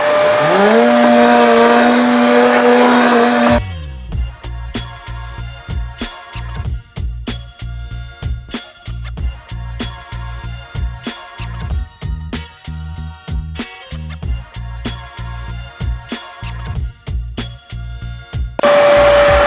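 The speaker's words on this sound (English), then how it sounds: "you can use it just like a regular Tornador and just blow it out" A Tornador air blow gun gives a loud high-pitched blast of air blowing dirt and sand from a car interior, breaking into rapid sputtering bursts and pulses for many seconds before a steady blast resumes.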